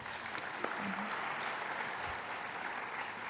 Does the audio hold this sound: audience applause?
yes